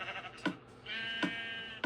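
Sheep bleating in the Minecraft video game, two short bleats about a second apart over a faint steady background tone.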